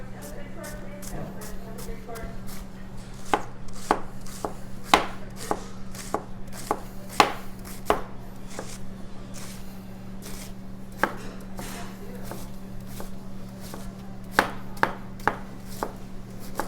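A knife chops red cabbage on a cutting board in a steady run of crisp, close knocks, about a dozen sharp strikes spaced at an even rhythm over a low steady hum.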